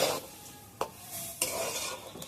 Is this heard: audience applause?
no